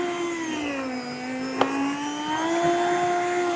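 A meat slicer cuts venison into strips for jerky, its motor giving a steady mechanical whine that shifts slightly in pitch as the meat runs through, with one brief sharp click partway.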